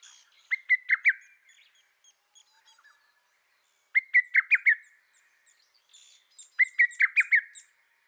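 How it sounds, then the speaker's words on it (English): A lesser cuckoo (hototogisu) calls in three separate bouts of quick, clear, whistled notes with quiet gaps between them, close and with no voices. "The lesser cuckoo was greatly admired for her beautiful calls"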